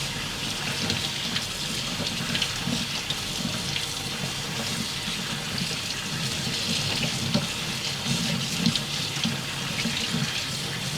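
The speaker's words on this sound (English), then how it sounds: "we are just going to continually rinse the sushi rice until the water coming off of it is completely clear" Cold tap water runs steadily over sushi rice in a colander, a loud, continuous close splashing rush with no break and no talking.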